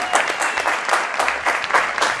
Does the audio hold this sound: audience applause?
yes